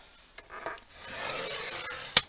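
A scoring tool drawn across paper for a shadow box, a dry rasping scrape building over a couple of seconds and ending in a sharp click.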